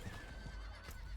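Horse in the video game Diablo 4 whinnying, with hooves clip-clopping beneath it, a short, fairly quiet neigh heard alone.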